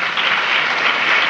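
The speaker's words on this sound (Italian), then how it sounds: "Fate un applauso" Television studio audience applauding a rock acrobatic dance couple on a 1979 Italian TV show, loud dense clapping that is steady and continuous throughout.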